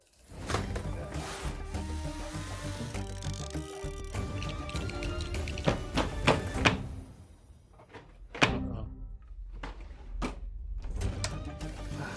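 IKEA Malm drawers being assembled, with repeated knocks and thumps of wooden panels and drawer parts, close and fairly loud in irregular bursts over a steady tonal background.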